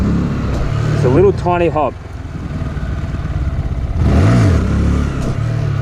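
A Honda Grom motorcycle engine revs in short bursts while the rider practices a beginner wheelie, with two sharp rising throttle blips over a steady idle. Someone talks throughout.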